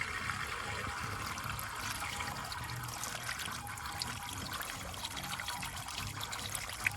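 Running water flushing through a Ford Escort Cosworth engine bay, splashing and trickling steadily, a continuous hissy flow heard close up with faint clatter underneath.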